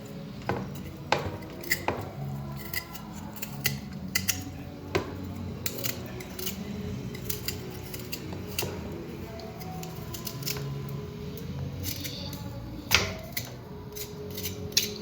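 A knife peels a freshly washed leaf root in close, scattered scrapes and sharp clicks, irregular and fairly quiet, over a low background hum.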